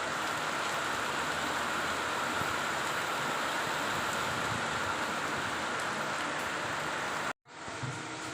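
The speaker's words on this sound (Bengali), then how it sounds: "দেখুন কি বৃষ্টি হচ্ছে, প্রচুর পরিমাণে বৃষ্টি হচ্ছে।" Heavy monsoon rain pouring down, a dense, loud, continuous wash of noise that holds steady and then cuts off abruptly near the end before faintly resuming.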